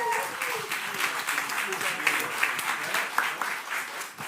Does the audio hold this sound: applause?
yes